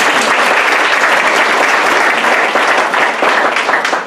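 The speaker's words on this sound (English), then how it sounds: "let's all give her an extra big clap" Loud, dense applause fills a room at a community volunteer luncheon, a continuous wash of many hands clapping steadily without pause, tapering slightly at the end.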